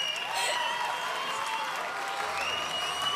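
Big round of applause from the audience for a singer on stage at a show, sustained crowd clapping throughout with a voice or tones faintly carrying over it.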